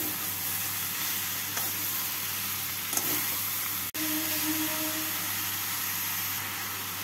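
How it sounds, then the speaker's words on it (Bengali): Sugar being stirred into chichinga posto (snake gourd with poppy seed) in a frying pan, a continuous soft sizzle and hiss with a scrape of the spatula partway through and a brief dropout near the middle. "চিনিটাকে ভালো করে মিশিয়ে নেব।"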